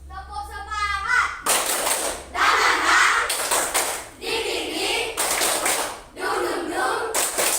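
A school class of children doing spirit clapping during a morning classroom routine, giving several bursts of loud, quick rhythmic group claps close by, with voices mixed in.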